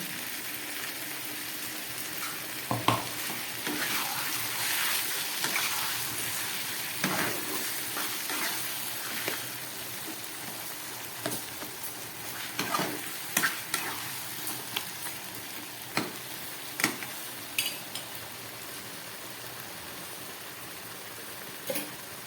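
Spice paste frying with chicken in a pan makes a constant hiss and sizzle, broken by intermittent scraping and clacking stirs that come more often toward the end, with no talking.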